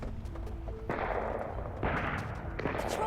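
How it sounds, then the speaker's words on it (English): Several sharp gunshots crack out at irregular intervals, with two louder bursts standing out over a faint background, in a night-shift graveyard setting with no voices. "Now those gunshots. Shots fired."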